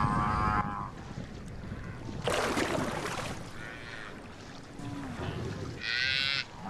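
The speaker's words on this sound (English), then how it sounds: "The scrawny cows try to survive around the last remaining pools." Drought-stricken cattle low several times, drawn-out moos rising over an open, breezy background with a rushing swell in between; moderately distant.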